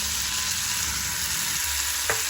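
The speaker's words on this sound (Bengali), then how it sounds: "সস তৈরি করার জন্য আমি চিলি ফ্লেক্স, ক্যাশু নাট ভেজে নেব" Chili flakes and cashew nuts frying in a pan for a sauce, a steady close sizzle with faint stirring and no talk.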